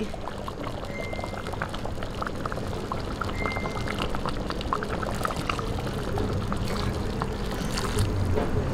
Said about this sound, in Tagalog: Babantuan po natin po ng water.